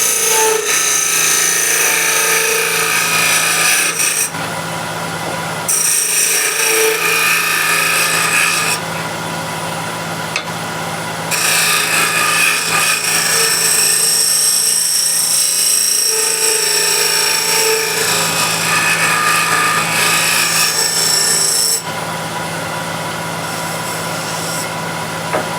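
A bowl scraper cuts wood on a lathe, producing a loud, close, continuous rasping hiss in long passes, with brief quieter pauses between cuts over the lathe's steady hum.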